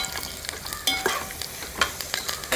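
Curry leaves crackle and sizzle in hot oil in a pan while a spoon scrapes and stirs them in repeated strokes, up close with no voices, during the making of a traditional Kerala sweet pachadi.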